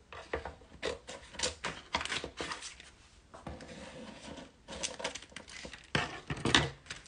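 Silhouette Cameo cutting machine slicing a first section of Valentine's decor, giving irregular clustered clicks, taps and short whirring bursts at close range, with no talk.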